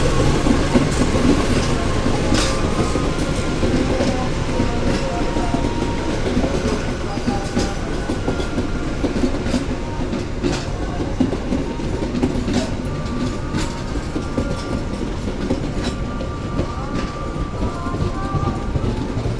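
Baturraden Express passenger train with business-class cars running on rails near Purwokerto, a steady loud rolling rumble with rhythmic clickety-clack over the track throughout, plus faint occasional squeals.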